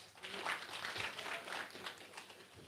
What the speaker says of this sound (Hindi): अपने लिए ताली बजाओ भाई।